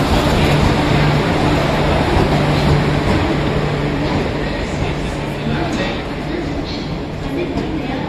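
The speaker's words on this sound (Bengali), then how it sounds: "ট্রেন ঢুকছে।" A train pulling into Delhi Junction station, a loud continuous rumble and rolling rail noise with platform hubbub and voices mixed in.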